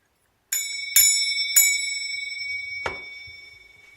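Small bell rung by hand at a bedroom door before entering, struck three times in quick, bright, ringing dings, then a fourth softer ding after a pause, each tone lingering and fading in a quiet room.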